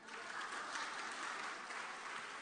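A crowd at an alumni association meet gives faint, even applause in a steady wash of clapping that lasts the whole short stretch without pause.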